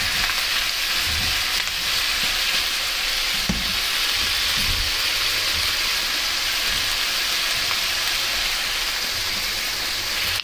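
Long onion sizzles in a pan for chicken teriyaki, a dense steady frying hiss with a few soft thumps and scrapes from stirring, close up and with no talking.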